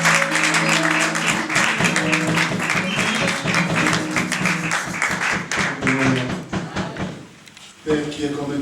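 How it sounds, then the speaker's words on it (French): A church congregation at a dedication ceremony applauding and acclaiming God, with dense, loud, steady clapping and cheering under speech and music, easing briefly near the end before swelling again. "Pendant qu'il avance, on acclame Dieu."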